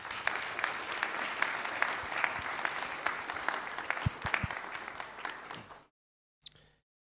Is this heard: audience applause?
yes